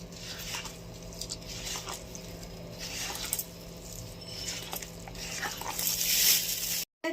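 Prawn fritter batter with turmeric is squished and kneaded by hand close up, giving wet, sticky squelches and soft pats in an irregular rhythm over a low background hum.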